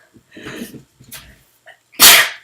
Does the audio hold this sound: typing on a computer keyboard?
no